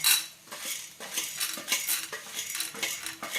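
A metal spoon scrapes and clinks against a pan as spices for Andhra-style stuffed brinjal fry are lightly roasted, repeated rhythmic stirring strokes close up, with no audible sizzle.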